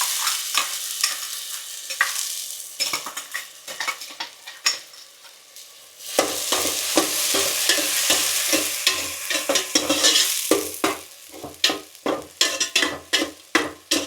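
Chettinad chicken masala paste of ground tomato, ginger and garlic sizzling in a pan, with repeated scraping stirs of a spoon, loud and close, sizzle swelling after the paste goes in, no talk.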